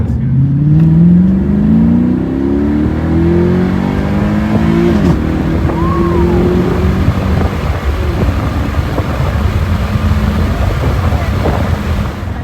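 A Mercedes C63 AMG Black Series (W204) with an FI catback exhaust revs hard and climbs in pitch as it accelerates, then settles into a steady roar with road rumble.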